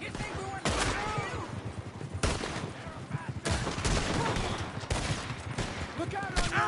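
Repeated gunfire in a Red Dead Redemption 2 shootout, loud sharp shots and scattered volleys spread irregularly across the clip, mixed with shouting voices and game ambience.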